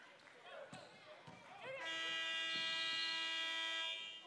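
A long, loud electronic buzzer blares for about two seconds at a women's junior college basketball tournament game, following scattered ball bounces and crowd noise in the gym.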